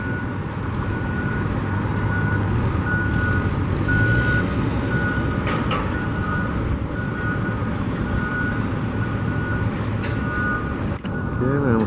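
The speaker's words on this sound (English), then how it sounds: "We're getting a lot of these trucks. I think they're loading all the extra dirt they have" Heavy dump trucks idle and rumble at a stadium construction site while being loaded with extra dirt, a steady backup alarm beeping repeatedly over the continuous engine noise, with a brief thud near the end.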